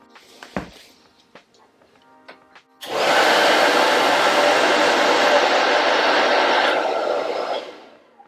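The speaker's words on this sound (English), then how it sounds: "let's see what happens when we turn on a hair dryer." A hair dryer switches on abruptly after a few quiet moments with faint clicks, roaring as a loud, steady broadband whoosh that holds for about four seconds before tapering off.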